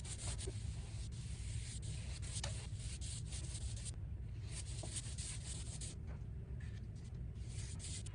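A 2.5 inch cut-in brush drags steadily along trim with semi-gloss paint, a soft continuous rubbing and swishing with faint scratchy strokes, close and quiet throughout with no talking.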